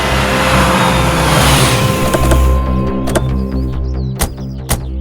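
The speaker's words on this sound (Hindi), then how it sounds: "चलिए, आप गाड़ी को पीछे लेके जाइए।" A car reverses on a film stunt set, its engine a steady close rumble with some whining, followed by several sharp clicks or knocks toward the end.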